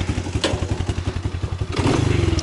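Small tracked all-terrain vehicle in the taiga, its engine chugging in a fast, steady thumping rhythm and then picking up as it moves off, loud and close with clattering mechanical knocks.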